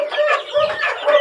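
Baby chicks from an incubator peeping in a lively, continuous chorus of high chirps, close and loud with no talk.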